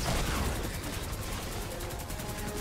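A light machine gun (LMG) firing in the video game Fortnite, a rapid unbroken stream of shots forming a dense rattling burst, loud and sustained across the whole moment.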